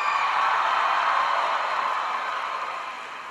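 A crowd claps and cheers at a President Obama speech in Springfield, a dense, steady wash of applause that tapers off slightly toward the end.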